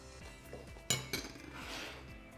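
A metal spoon clinks against a bowl of seasoned prawn filling, two sharp bright taps followed by softer scraping and light clatter, close and without speech.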